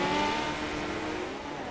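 A midget race car on a dirt track throttles up with a steady, droning engine note that holds at moderate distance, smooth and sustained without talk over it.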